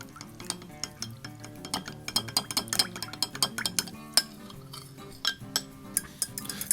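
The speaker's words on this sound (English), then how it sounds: "And we'll mix this together." A spoon clinks and scrapes against a bowl in a quick, irregular rhythm while a Dijon mustard glaze for a bacon-wrapped pork loin is stirred, close and fairly quiet, with no talking.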